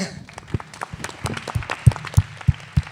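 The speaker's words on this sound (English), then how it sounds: "Last applause, please." Sparse applause at a design-competition talk event, a few scattered distinct claps and thumps near the microphone over a low murmur, with voices in the background.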